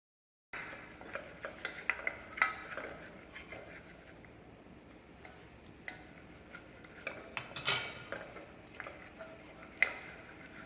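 A spoon stirs milk into cabbage chowder soup in a pot off the heat, making faint, irregular clinks and ticks against the vessel with a quiet wet swirl between them.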